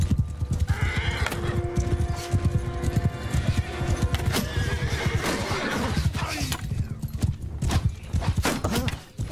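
A horse in the Mount & Blade II: Bannerlord video game neighs and whinnies repeatedly over clip-clopping hooves, amid busy battlefield noise.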